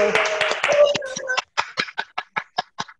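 A lecture audience at a Nu Skin group meeting claps after talking stops, settling into a steady, rhythmic run of distinct claps that sound thin rather than a dense ovation.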